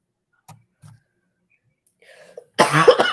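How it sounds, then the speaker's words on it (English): Two faint, soft sounds early on, then a near, loud burst of coughing at the end, with slight throat sounds just before. "I still have some cough I'm trying to get over."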